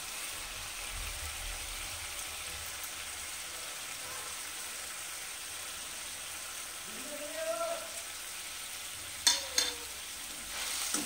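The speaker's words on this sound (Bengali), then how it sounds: "এটাকে একটু কিছুক্ষণ একটু কষে নেব।" Chili powder, turmeric, sugar and salt frying in a pan and being stirred, a low, steady sizzle with a few louder scraping knocks near the end.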